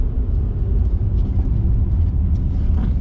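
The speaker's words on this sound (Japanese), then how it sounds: "エンジン音はのぶといです。" Chevrolet MW compact car (Suzuki ME34S, 2WD) driving downhill, its engine a thick, deep, burbling rumble heard from the cabin, steady and loud with road noise underneath and no voices.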